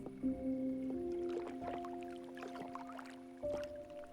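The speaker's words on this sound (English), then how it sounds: "I love listening to water." Water in a video game laps and trickles softly with small splashing pulses, set under steady, sustained game-music tones at a quiet level.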